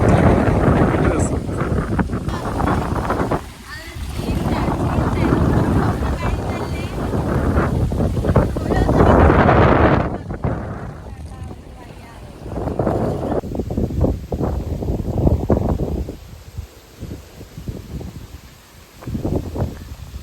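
Strong wind gusts at EMS Park in Trivandrum on a sunny day, buffeting the microphone in loud, rough waves that ease off at times, with voices faintly in the background.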